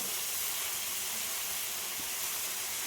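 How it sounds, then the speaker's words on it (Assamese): Food fries in a hot pan with a steady, loud, broadband sizzle and hiss that holds constant throughout, with no talking. "এতিয়া এইখিনি অকণমান সময় ভাজিছোঁ"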